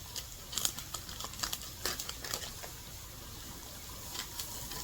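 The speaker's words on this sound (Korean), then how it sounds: "지금 물을 틀어서 나오는 물소리." Kitchen tap water running while making tuna gimbap, a soft steady trickle and patter with faint crinkly splashes, fairly quiet and close, with no voices.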